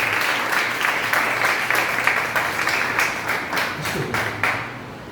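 A church congregation applauds steadily throughout, a dense wash of many hands clapping at an even level with no voices.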